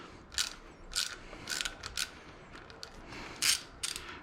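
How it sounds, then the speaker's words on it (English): Allen key working the stem bolts on a budget Costco NorthRock bike, giving a few faint, separate ratchety clicks and creaks with short pauses between them, close by and quiet with no talking. "So just unscrew to loosen them."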